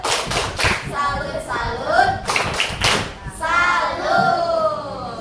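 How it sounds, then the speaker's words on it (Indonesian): Classroom students clapping hands together in rhythmic bursts with thumps, interleaved with children's voices chanting and talking. "Oke, tepuk tangan."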